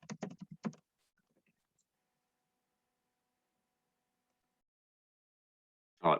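A quick flurry of keystrokes on a computer keyboard as a question is typed, a short run of close clicks followed by long silence.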